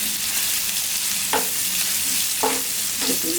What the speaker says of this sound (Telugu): టూ 3 minutes తర్వాత మష్రూమ్ బాగా ఫ్రై అయ్యింది